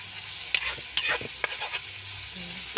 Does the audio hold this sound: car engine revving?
no